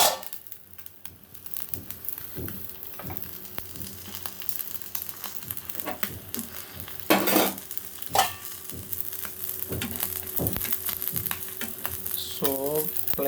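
A bread omelette frying in a thin layer of oil on a pan, with a soft continuous sizzle broken by scraping and stirring clatter from a utensil, loud and close.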